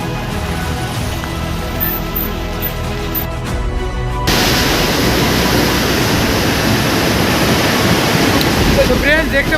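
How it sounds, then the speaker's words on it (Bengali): Floodwater released through the Durgapur Barrage floodgates on the Damodar river during a 2024 flood makes a loud, steady, broadband roar. It starts quieter under a faint hum, then surges louder at about four seconds and stays constant. "পাচ্ছ যে কী পরিমাণে জল ছাড়া হচ্ছে আর আওয়াজটা কীরকম উঠছে জলের"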